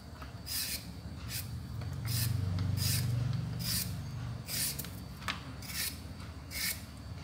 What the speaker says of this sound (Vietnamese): Lúc nãy là mình bào cái chuối sứ, bây giờ là mình bào cái chuối tây nha.